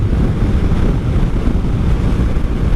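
Heavy wind buffeting roars into the microphone while riding a 1984 Honda V65 Sabre VF1100S motorcycle at speed, a loud, continuous low-frequency rush that buries everything else.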